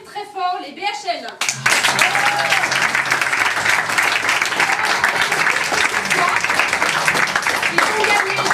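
A theatre audience at an improv theatresports show bursts into loud, sustained applause and cheering after a brief spoken line, dense clapping filling the room and staying strong to the end.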